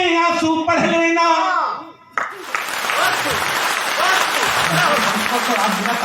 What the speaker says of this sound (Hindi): ताली बजाए रुकेंगे ही नहीं